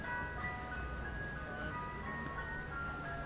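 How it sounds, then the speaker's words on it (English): An ice cream truck idles nearby at Temple University, a steady low engine hum with a faint tonal whine held evenly throughout, fairly quiet and with no talk over it. "Can you hear the humming of the truck?"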